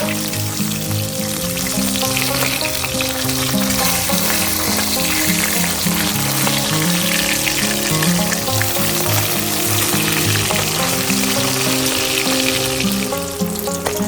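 Bata fish fries on high flame, flipped after one side is done, crackling and hissing steadily in hot oil, a dense, close sizzle that runs unbroken for the whole stretch, without talk.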